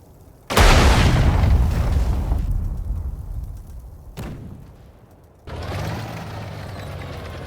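Naval gunfire from the warship HMS Ivanhoe in the strategy game Sudden Strike 4 during the Battle of Dunkirk: a heavy, loud booming blast with a long rumbling tail, a second sharper thud, then a sustained rumbling explosion.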